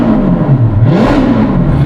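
Ferrari Portofino M with a Novitec exhaust revving: a loud, close engine note that dips and then climbs sharply with a rasping burble, sustained throughout the short burst.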